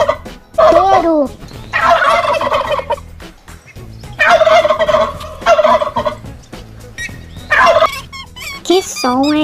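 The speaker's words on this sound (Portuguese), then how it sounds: "Peru." A turkey gobbles in repeated rapid, rattling bursts, loud and close, with short gaps between calls and no voices.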